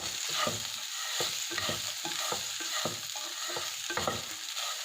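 Lemon poha with peanuts stirred in a pan, with repeated rhythmic scraping and tapping of a spatula over a steady hiss, close and moderately loud, with no talking.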